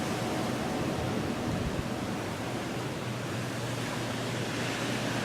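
Wind from a Chicago blizzard roars outside as a steady, dense broadband rush with no gaps, loud and close throughout and heard alone.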